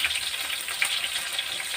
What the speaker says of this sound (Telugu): ఈ టైంలో ఉల్లిపాయలు వేసేస్తాను